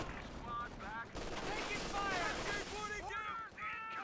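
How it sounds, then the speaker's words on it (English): Sustained MG42 machine gun fire in Company of Heroes 2 battle, dense rattling bursts mixed with other gunfire and effects, with speech-like voices over the din throughout. "Running into MG42 fire."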